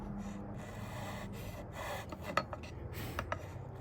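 A luthier files the string slot of a guitar nut, giving short scraping rasps at close range over a low steady hum, with a few sharper scratches toward the end.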